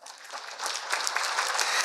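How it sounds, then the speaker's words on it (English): Audience applause at a Blackfoot language symposium, a dense wash of clapping that rises over the first second and holds steady and fairly loud to the end, with no talking. "can you give the participants another round of applause?"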